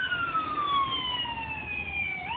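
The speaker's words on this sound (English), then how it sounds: "Pardon me for the sirens going by" A wailing siren sweeps slowly downward in pitch, fairly close and steady, over a low rumble of street traffic.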